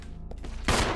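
A single sharp handgun shot in the survival horror game Resident Evil 0, a loud close burst with a brief decaying tail after a quieter lead-in.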